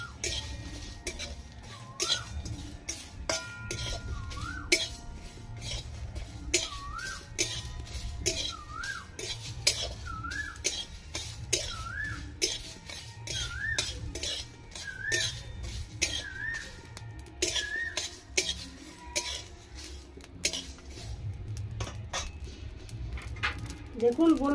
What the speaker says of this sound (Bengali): এই যে পরপর আওয়াজ হচ্ছে, মশলাটা ভাজা হয়ে গেছে।